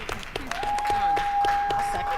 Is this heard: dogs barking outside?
no